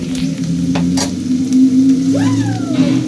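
Green chillies and onion frying in a pan, a loud, close, continuous sizzle under a steady hum, with a few sharp stirring clinks and a faint tonal squeal near the end; no talk.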